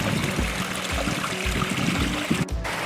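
Water from a pump-fed backyard pond waterfall and stream splashing and trickling steadily, a continuous moderate wash with a few low thumps, no voices.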